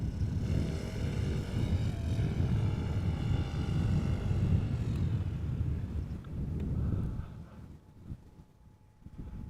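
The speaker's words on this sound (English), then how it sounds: "There's also an E2 Embraer 195 coming to this runway in a moment." Embraer 195 E2 airliner approaching a runway at Amsterdam Schiphol Airport, a loud broad jet roar that holds steady and then fades as it passes, no talk.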